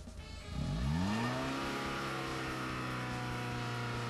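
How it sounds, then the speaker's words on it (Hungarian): A car engine revs hard during a driving lesson. The pitch sweeps up sharply and then holds at a high, steady drone. The sound is close and loud, with no talk over it. "Ne pörgesse azt a motor!"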